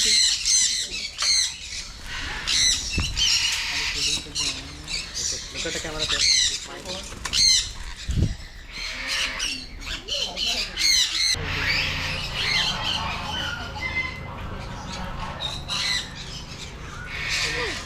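Parrots at the Essel World bird park in Mumbai squawk in loud, harsh bursts close by, many calls overlapping in quick irregular runs, with people talking amid the din.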